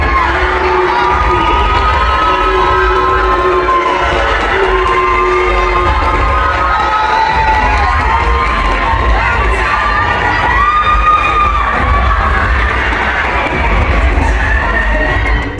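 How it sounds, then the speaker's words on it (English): Big basketball arena crowd at a WNBA game roars after a win, loud sustained shouting, whooping and booing-like cries swelling and overlapping for the whole stretch. "just watch how they handled being booed after the win"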